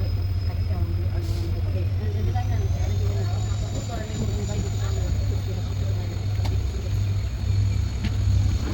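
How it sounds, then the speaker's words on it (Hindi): A train pulls out of the small Rajagambhiram railway station on the Tiruchirappalli–Rameswaram–Madurai line, a steady low rumble and drone that runs continuously and evenly throughout. "ये हमारी ट्रेन का डिपार्चर हो रहा है राजगंभीरम रेलवे स्टेशन से।"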